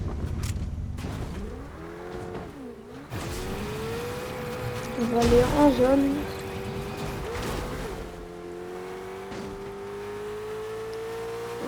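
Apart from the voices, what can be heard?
car driving in Fortnite video game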